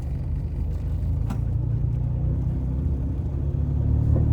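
A car engine rumbles loudly and steadily from inside the cabin on a night drive, with a low droning growl that builds slightly toward the end.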